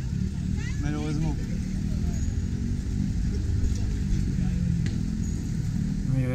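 Busy Paris street traffic between Étoile and Odéon, with scooters and motorcycles passing, a constant engine drone and occasional revving under murmuring voices.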